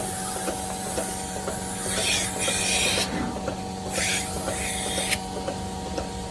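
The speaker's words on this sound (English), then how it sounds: "we're going to turn on our milking unit" A dairy cow milking unit runs steadily close by with a constant mechanical hum and tonal drone, with hissing, airy bursts rising and falling over the steady machine sound, and no talking.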